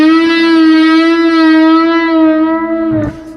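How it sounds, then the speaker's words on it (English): Sustained electric guitar note bent up and held with a slow, gentle vibrato, loud and clear, wavering evenly for about three seconds before cutting off. "you may have noticed that I've been putting some vibrato on some of these bends"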